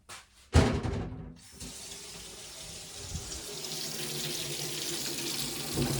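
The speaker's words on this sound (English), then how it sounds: "I'm gonna go and rinse them in cold water." Cold water gushes from a kitchen tap over freshly cooked soft-boiled eggs, opening with a sharp splash and then running as a steady, moderately loud stream with no talk.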